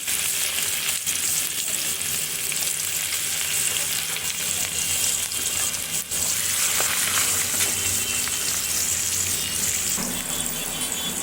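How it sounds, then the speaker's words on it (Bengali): Chopped onion frying in oil with cardamom, bay leaf and whole cumin, a steady loud sizzle and hiss running throughout with occasional stirring scrapes and a brief dip near the middle. "এগুলো আমি ওই তেলের ভিতরে ফোড়ন দিয়ে ওর ভিতরে কিছুটা কুচে পেঁয়াজ দিয়ে দিলাম"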